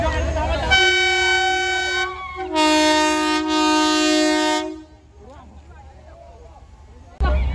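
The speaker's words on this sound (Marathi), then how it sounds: "ट्रेन आली आहे" A train horn blasts loudly twice, the long tones ringing out, followed by rumbling and clatter of a train arriving close by at Matheran.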